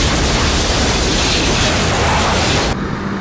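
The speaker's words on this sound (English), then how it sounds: "Lots of explosions." Explosions from the action film Face/Off rumble in a loud, dense, sustained roar of blasts and debris that fills the whole stretch and cuts off abruptly near the end.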